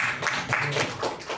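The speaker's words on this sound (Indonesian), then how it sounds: "Bagus, tepuk tangan buat Pak Taufik nih." Teachers at a school vision workshop clap for a colleague, a brief, moderately loud round of scattered handclaps with uneven rhythm, close and without talking.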